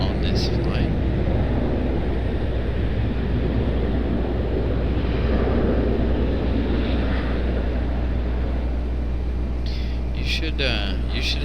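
Airliner touching down at Raleigh-Durham airport, a continuous broad roar and rumble of jet engines and rollout heard from the field, steady and loud for the whole stretch.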